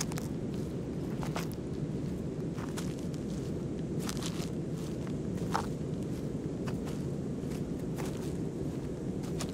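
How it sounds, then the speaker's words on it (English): Slow crunching footsteps walking outdoors, each step a distinct crunch at a steady unhurried pace, set against a constant low wind rumble throughout. "You're hearing the wind blowing. You're hearing the crunch of each of the footsteps, and they're just walking slowly."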